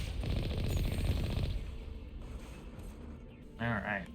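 Rapid automatic gunfire in Mass Effect Legendary Edition, a dense continuous rattle for about a second and a half that fades into background battle noise, with a voice speaking briefly near the end.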